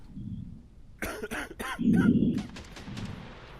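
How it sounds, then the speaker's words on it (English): A character in the game Quarantine Zone: The Last Check coughs a few times close up, a short burst of harsh, throaty coughs with a heavier cough in the middle. "You are coughing."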